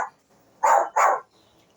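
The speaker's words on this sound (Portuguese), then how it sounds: "Essa é minha cachorra latindo" A pet dog barks twice in quick succession indoors, loud and close, with quiet pauses before and after.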